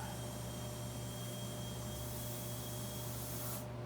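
An air hose hisses steadily as it inflates a tire mounted on a split rim of a 1929 Packard, a faint continuous rush of air that cuts off just before the end.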